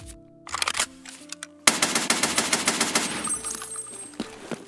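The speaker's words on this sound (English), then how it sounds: "I typically play with M62 bullets, and let me show you the recoil in the hideout." Automatic rifle fire with M62 rounds in the shooter game Escape from Tarkov, heard in the hideout: a short burst at first, then a long sustained string of rapid, loud, evenly spaced shots.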